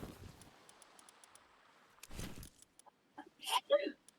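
A person sneezes, a short burst in the middle of otherwise quiet room sound, followed by a couple of brief vocal noises.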